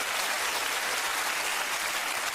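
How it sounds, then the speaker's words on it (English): A studio audience applauds steadily and fully, a dense even wash of clapping with no talk over it. "You see, Boris, that's what clapping sounds like."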